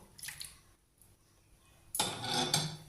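Lychees dropped into a pot of payesh, a milk rice pudding, and stirred, first a few faint soft taps, then a louder wet clatter of spoon against pot close by.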